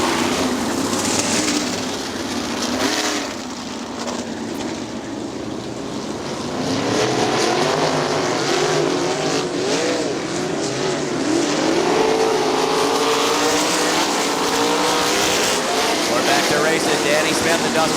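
Sprint cars roar around Winston Motor Speedway, engines rising and falling as they pass, with a loud dense mechanical drone and a commentator talking over the racing noise.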